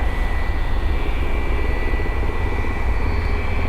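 A Turkish Airlines Airbus A321neo arriving at Dublin Airport from Istanbul, a loud steady jet roar with a sustained whine, heard outdoors without talk.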